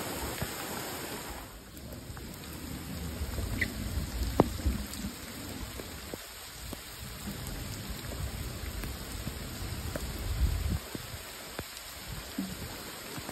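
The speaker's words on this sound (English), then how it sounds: "So we had rain for over an hour, I guess." Rain falling outdoors at a landscape site, a steady hiss with scattered drops and low rumbling swells, fairly faint and continuous with no voices.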